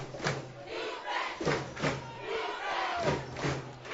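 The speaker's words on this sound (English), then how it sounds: "Lancer crowd, the chant of defense, trying to get their team some momentum here." Home crowd at a Philomath Lancers high school football game against South Umpqua chanting "defense" in rhythmic repeated bursts, a loud massed chorus of voices echoing across the stadium.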